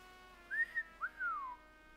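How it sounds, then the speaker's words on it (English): Two men whistle crudely in a video game scene: a short rising-falling whistle, then a longer swooping one that slides downward, set against a soft, steady musical backdrop. "Upon hearing that order, the men whistled boorishly."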